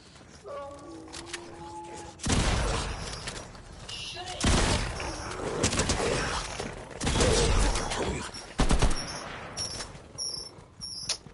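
Video game gunfire rattles in rapid bursts and fusillades, loud and close, with sharp volleys spread across the stretch and people talking between and over the shots.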